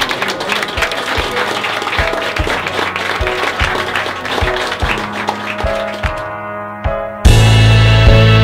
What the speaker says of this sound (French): On les applaudit et je vous remercie.